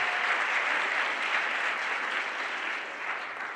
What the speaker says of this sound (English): Please join as I give them a round of applause for their generosity.